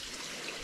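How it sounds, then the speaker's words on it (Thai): Water rushes steadily and continuously from a waterfall roughly ten metres high, a dense broadband roar with no breaks and no voices over it. "เบิ่งน้ําตกตัวนี้ น้ำตกตัวนี้ก็ประมาณนะนะ"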